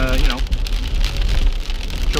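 Steady rain drums on a moving car while driving through Sacramento, California, a continuous broadband wash with low road rumble, and a voice briefly sounds near the start.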